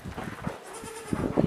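Goats bleat inside a goat barn holding about 350 mixed animals, with several overlapping nasal cries from different distances in a busy, reverberant indoor space.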